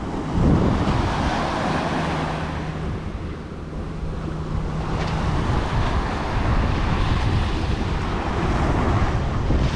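Surf and wind on a hard-packed Alabama beach at Dauphin Island make a constant, loud wash of waves with wind rumbling on the microphone throughout.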